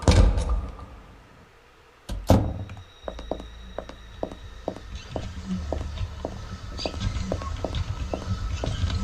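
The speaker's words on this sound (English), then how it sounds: "Open the door." Door opening in the horror video game Burnhouse Lane, marked by a pair of sharp thunks and a mechanical clunk, followed by a run of rhythmic taps and footsteps over a low, rumbling game ambience.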